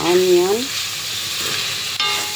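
Onion, garlic and beef frying in butter in a pan, a steady soft sizzle with a brief voice at the start.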